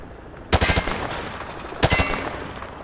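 Gunfire at range targets in Call of Duty Modern Warfare 2, two loud rapid bursts of automatic fire, each about half a second long, separated by a short pause.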